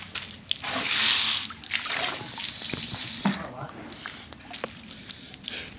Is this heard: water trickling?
yes